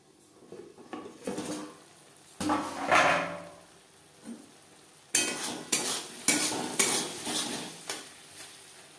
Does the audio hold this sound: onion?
yes